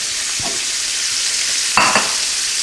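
Food searing on a hot commercial kitchen grill gives a steady broadband sizzle, broken by a few brief clatters, one louder clank near the end.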